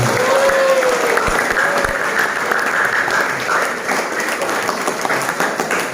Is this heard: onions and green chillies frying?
no